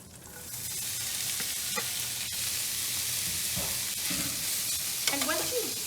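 Drained ground beef for nachos goes back into a hot pan, crackling and sizzling steadily while a spoon stirs and scrapes against the pan, close and moderately loud, with no talking.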